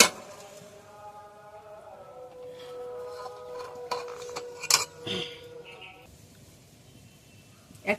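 A metal kadai pan is lifted and handled while making palm-fruit pitha: a few sharp clinks and clanks of metal against metal near the middle, faint scraping around them, with a quiet voice and a last knock at the end.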